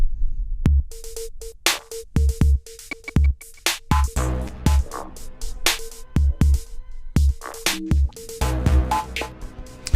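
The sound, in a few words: electronic drum beat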